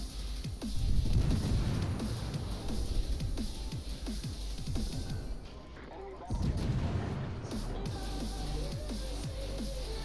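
Naval gunfire in the World of Warships game as a fleet engages enemy ships, with a string of booming shots and rumbling blasts over a constant engine and sea drone, loud and close.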